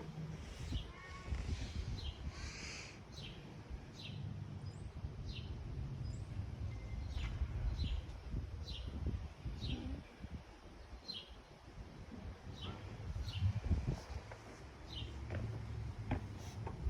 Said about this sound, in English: Trying to watch the birds.